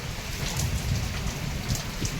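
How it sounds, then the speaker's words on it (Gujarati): Steady monsoon rain pours down, a dense even hiss of drops with no voices, close and continuous throughout. "હજી વરસાદ તો ચાલુ જ છે"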